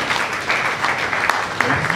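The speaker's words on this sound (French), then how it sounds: "nos applaudissements sont vraiment timides" Audience applause at a forum on women's rights closing, a steady, dense wash of many hands clapping throughout, moderately loud with no voices over it.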